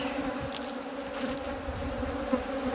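A honeybee swarm settled in an empty brood box gives a steady, dense, fairly close buzzing drone with no talking.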